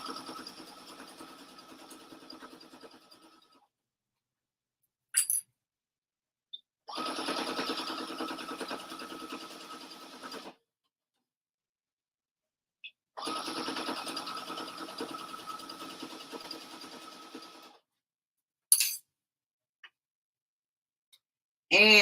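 A sewing machine stitching the straps of a quilted reusable bag: several runs of steady, rapid mechanical whirring lasting a few seconds each, separated by silent pauses and brief clicks, close and moderately quiet.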